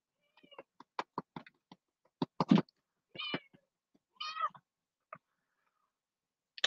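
A small cat meows twice among scattered knocks and clicks indoors, each meow short and moderately close, with quiet gaps between.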